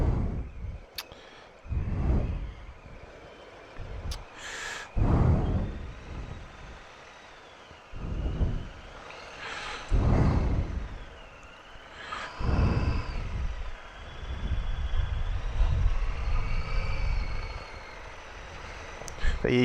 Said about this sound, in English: Ooh, we're in some traffic.